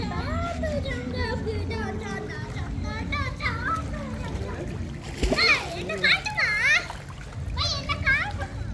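A child splashes water while learning to swim, with irregular bursts of splashing building in the second half under near children's voices and chatter.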